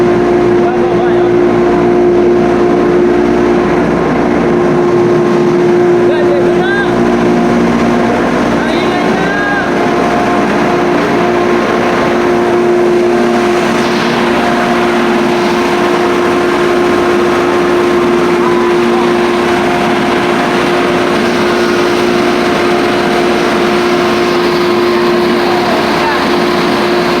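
A ship's emergency fire pump engine runs loud and close in an enclosed machinery space, a constant heavy drone with a steady tonal whine and no pauses throughout.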